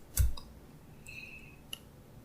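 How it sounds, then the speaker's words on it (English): A single sharp mouse click in spreadsheet software, heard close and quiet over faint room tone, with a softer tick about a second and a half later. "So we will just click"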